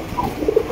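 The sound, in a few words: pair of Indian Bombay pigeons cooing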